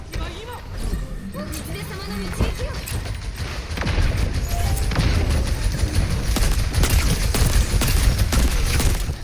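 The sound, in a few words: gunfire in Overwatch video game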